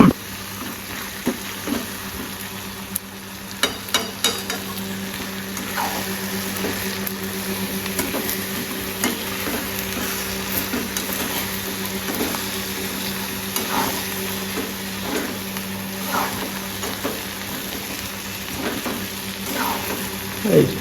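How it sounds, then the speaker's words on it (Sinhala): Crispy devilled chicken fries in a pan with chopped chillies and onions. A steady, close sizzle runs throughout, broken by occasional clicks and scrapes of stirring, with no one speaking. "මෙන්න මේ විදිහට මේක ෆ්‍රයි වෙගෙන එද්දි"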